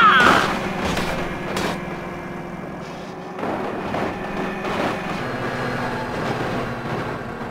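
A train rumbles past a tractor and a double flatbed trailer truck in BeamNG.drive, a steady mechanical rumble with a few sharp knocks near the start, continuing at an even level throughout.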